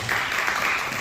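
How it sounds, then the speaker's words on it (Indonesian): A church congregation claps during a worship service in a short, dense burst of applause that holds steady throughout. "Kita beri tepuk tangan dulu yang meriah buat Tuhan."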